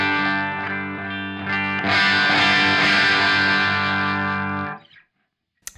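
A guitar amplifier driven hard past its headroom into distortion: a sustained, buzzing overdriven chord that thickens and grows louder partway through, rings for a few seconds, then is cut off abruptly into silence.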